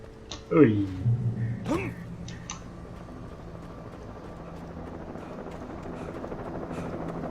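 A helicopter in the video game Alan Wake gives a steady, whirring drone that settles in after a brief voice near the start and carries on evenly to the end.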